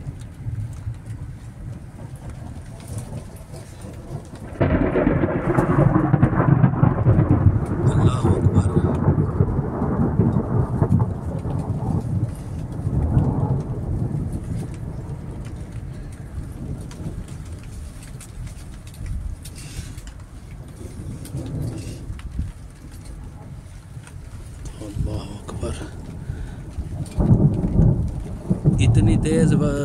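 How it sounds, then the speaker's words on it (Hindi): A loud thunderclap breaks out, then heavy rain pours steadily while thunder keeps rumbling in Saudi Arabia. Faint voices can be heard now and then. "लेकिन ये जो गरज की आवाज़ है ना बहुत ज़्यादा इस दफा।"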